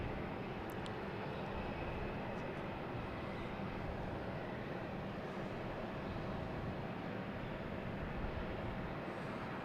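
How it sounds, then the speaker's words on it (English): American Airlines Embraer E175 airliner at Boston Logan, a low, distant and fairly faint engine rumble holding steady throughout, heard alone with no talk. "American Airlines heading to Chicago. It's the E175"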